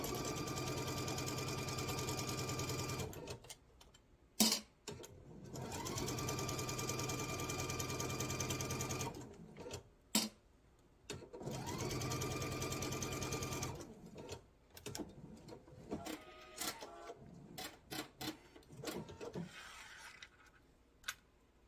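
Sewing machine stitching a quarter-inch seam on a quilt sampler block, heard as three steady bursts of motor whir with short pauses and light handling noises between them.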